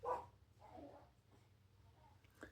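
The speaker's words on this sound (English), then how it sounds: "My dog is barking because she thinks someone's here" A dog barks indoors in a few short, distant, fairly faint yaps spread across a couple of seconds, with a muffled sound at the end.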